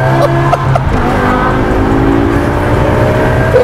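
BMW M5 with a V10 engine revving, a loud sustained engine roar with rising and falling harmonic tones, close and continuous, with no talking.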